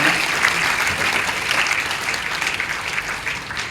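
An audience claps steadily and evenly throughout, applauding at a ceremony honouring young Muslim hafiz and alim students who became BAMS doctors.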